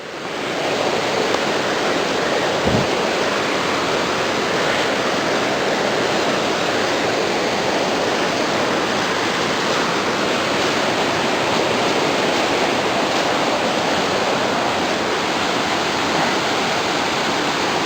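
Constance Creek rushes beneath a bridge along the snowy old Dosewallips road, a steady broadband roar of flowing water that holds loud and constant throughout with no voices.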